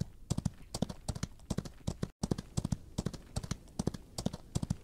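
Horse hooves clip-clopping in the video game Outlaws of the Old West, a quarter horse trotting in a steady repeating rhythm of sharp close hoofbeats, moderately loud with a brief dropout midway and no talk.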